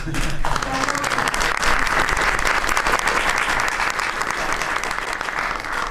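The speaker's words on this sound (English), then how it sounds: "The press actually broke out in applause." Press audience breaking into sustained, dense applause at a political event, loud and continuous throughout with no pauses.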